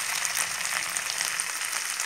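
Onion and tomato paste sizzling in a pan over the flame, a steady dense hiss heard up close without any talking.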